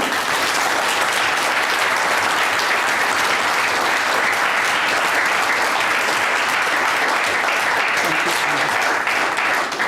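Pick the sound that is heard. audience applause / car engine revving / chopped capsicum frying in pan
audience applause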